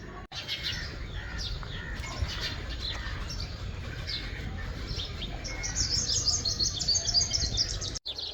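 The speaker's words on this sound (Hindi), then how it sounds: "शाम के टाइम हमारे प्यारे गांव में चिड़ियां बहुत ज़्यादा चहचहा रही हैं" Many small birds chirp and tweet in a village at evening, a busy, overlapping chorus of high calls near and far, growing denser toward the end over a low ambient background.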